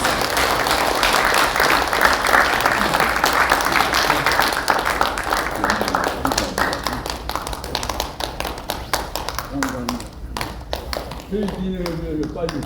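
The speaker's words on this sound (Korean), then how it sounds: "다시 한번 뜨거운 박수 부탁드립니다" Audience applause at an award ceremony, a dense burst of many hands clapping that thins into scattered individual claps and taps, with talk emerging over it toward the end.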